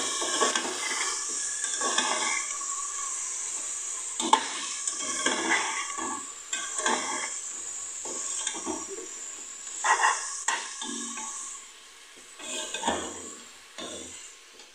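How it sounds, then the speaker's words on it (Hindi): Garlic ginger paste sautés in a pan with a soft, faint sizzle, broken by repeated scraping and clinking as a spoon stirs it at an uneven pace. "और लहसुन अदरक के पेस्ट में जो है हम इसको थोड़ा सौते करेंगे।"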